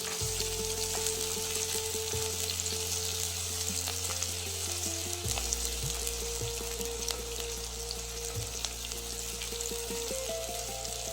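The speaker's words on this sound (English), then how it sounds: "Now, add the chopped onion to the vessel and stir well so that it cooks evenly." Chopped onion cooking in a vessel with cloves and bay leaf for spinach paalak rice, a steady close sizzle with occasional stirring scrapes over a continuous low hum, no talk.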